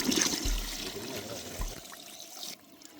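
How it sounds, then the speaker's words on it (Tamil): Water is poured into a pot of Salem-style mutton curry, giving a brief splashy rush with a couple of low gurgling pours that fade into quiet simmering. "தேவையான அளவுக்கு தண்ணி ஊற்றிக்கிறேன்"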